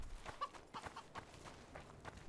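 Soft, quick clucks from a chicken in the video game Witcher II: Assassins of Kings, a faint run of short calls over quiet game ambience, with no talk.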